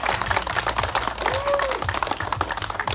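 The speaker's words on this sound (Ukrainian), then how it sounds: "Давайте оплески, поздравляю" Applause at a police mini-football tournament award ceremony, a crowd's rapid scattered clapping running steadily underneath an announcer's voice.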